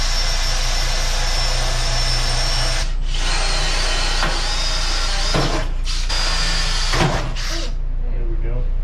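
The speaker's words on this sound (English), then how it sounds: "I gotta drill 4 holes in the sides here behind where the knockouts are" A power drill boring holes through the sides of a metal main electrical panel mounted against OSB, a steady loud whine that runs for several seconds, then breaks into short stops and restarts near the end.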